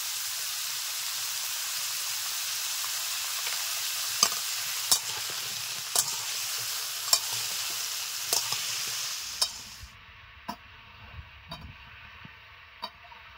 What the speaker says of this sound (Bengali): তিন চার মিনিট এরকম ভাবে নেড়ে নেব।